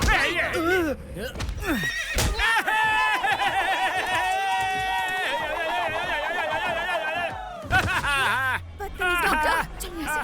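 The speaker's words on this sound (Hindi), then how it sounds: "मुझे उस घोड़े पर जोर से जंप करके वहाँ दूर एक राउंड मार के आना है" A horse whinnies loudly in several long, wavering neighs, close and dominant, with hoof clip-clop and a murmur of people underneath, in a Hindi-dubbed South Indian action film scene.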